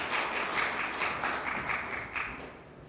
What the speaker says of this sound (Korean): 경전사 해주신 홍종식 부의장님께 다시 한번 큰 박수 부탁드리겠습니다